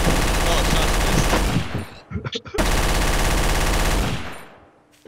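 Gunshots in Garry's Mod: a dense, loud stream of rapid automatic fire, a brief break with a few scattered pops and a voice, then another long sustained burst.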